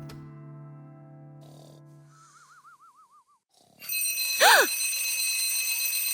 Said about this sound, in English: Who turned on the alarms?